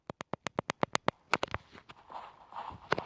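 Footsteps in a shooter video game come as a quick, evenly spaced run of about ten crisp steps, then a few irregular thuds fade into a soft, noisy game ambience.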